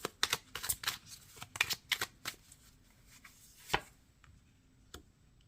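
Tarot cards shuffled and drawn from a deck: a run of crisp riffling snaps and flicks in quick clusters, then a few isolated card slaps spaced apart, close and fairly quiet with no talking.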